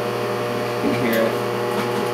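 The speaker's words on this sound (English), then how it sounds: "we're gonna put this egg in the microwave on high" A microwave oven running on high while heating an egg gives a steady, close mechanical hum with a fan-like whir, continuous and fairly loud for the whole stretch, with a faint voice murmuring beneath it.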